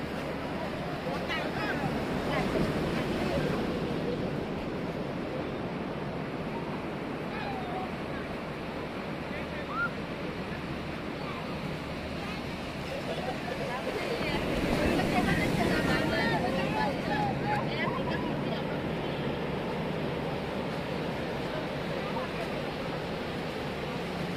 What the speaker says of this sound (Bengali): স্পিড বোট চলতেছে কিভাবে